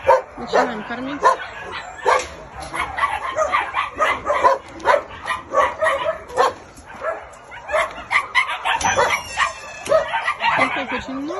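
A crowd of puppies barks and yips in quick, uneven bursts, close and fairly loud, with whimpers mixed in and people talking underneath.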